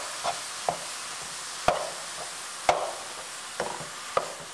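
Ground beef, about 10 pounds of lean, broken up with a metal spoon in a pot for bacon chili: a few sharp metallic scrapes and taps spaced roughly a second apart over a soft background hiss, with no talking.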